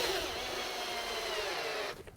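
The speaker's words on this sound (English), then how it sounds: "And put in our first screw." A power drill drives a screw into the timber of a classic raised garden bed, one steady whirring run of nearly two seconds, close and fairly loud, that cuts off sharply at the end.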